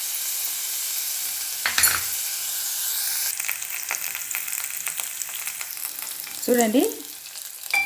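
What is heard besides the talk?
bottle gourd frying and being stirred in a pan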